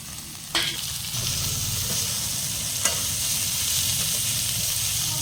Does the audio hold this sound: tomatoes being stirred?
yes